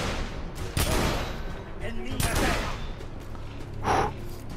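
Pump shotgun fire in the Victorian-era shooter game The Order: 1886, with several loud blasts at roughly one-second intervals amid a busy firefight, under excited shouting and gasping voices.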